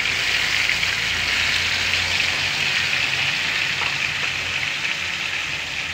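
Fish pieces go into hot oil for a Telugu-style fish curry (chepala pulusu), giving a steady, loud broadband sizzle that holds evenly throughout with no talking over it.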